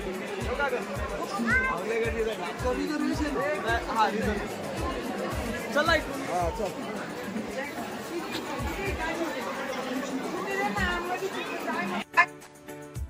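Crowd chatter at a busy train station, a dense steady babble of many voices with steady thumping in the background and nearby people talking over it.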